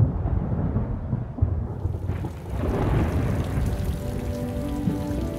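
Thunderstorm rolling in over Botswana at the end of the dry season, with steady rain pattering on surfaces and low rumbling thunder that swells midway, loud and continuous with no voices.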